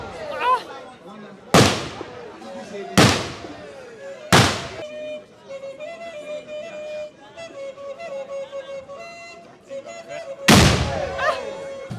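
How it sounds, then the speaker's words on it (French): Traditional gunshots fired during an Ashanti mourning ceremony in Kumasi, Ghana: five loud, sharp blasts spaced a few seconds apart, ringing over a crowd with singing, chanting and voices throughout. "ici on tire des coups de fusil durant cette période"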